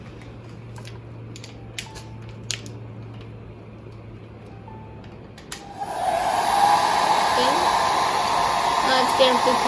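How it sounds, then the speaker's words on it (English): A hair dryer switches on partway through and blows steadily and loudly at a temperature sensor, following quieter room noise, a few clicks and a brief spoken word. "Now I'll switch on the hair dryer again."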